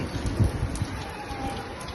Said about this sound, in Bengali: অনেক বৃষ্টি হইতেছে এখন